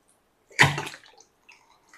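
Water is poured into a blender jar holding banana in a home kitchen: a single short, close splash followed by a few faint trickles and drips, with no talking.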